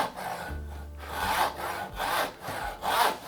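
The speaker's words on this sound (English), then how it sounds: "I'm cutting about 1mm away from the line so we can chisel back to it later." A hand saw cuts a wooden dovetail for a Shaker table, steady rhythmic back-and-forth strokes, close and clear, about five rasping pulls with no talking.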